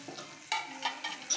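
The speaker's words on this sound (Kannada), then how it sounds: "ಸೊ ಇದನ್ನು ಇವಾಗ ಚೆನ್ನಾಗಿ ಫ್ರೈ ಮಾಡ್ಕೊಳ್ಳಿ." Grated coconut and raisins fry in ghee with a soft sizzle. Quiet, close stirring scrapes come in short bursts about every few tenths of a second.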